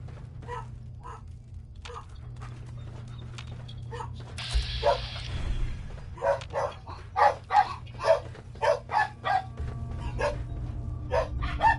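Dogmeat, the companion dog in Fallout 4, gives a run of short barks and yips in the middle of the clip, loud and close, over a low steady game hum.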